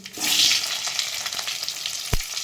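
Potato pieces dropped into hot spiced oil for a Bengali bhog labra mixed-vegetable dish set off a loud, steady sizzle and crackle that fills the scene, with a short clatter near the end.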